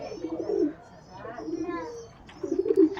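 Rajshahi Giribaj pigeons coo in three soft, low, throaty phrases close to the microphone, with faint background noise between them.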